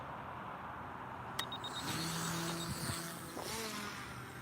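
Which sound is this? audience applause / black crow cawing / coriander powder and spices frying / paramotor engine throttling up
paramotor engine throttling up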